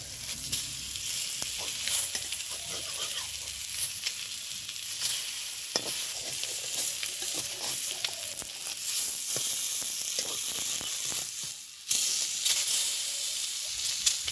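Fish fries in a pan without oil, a continuous hissing sizzle with steam, as a spatula scrapes and flips the pieces in irregular strokes, one sharper clatter near the end.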